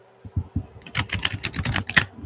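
A tarot card deck being shuffled, a few soft taps and then a rapid flurry of crisp riffling and clicking cards, close and fairly loud, with no voices.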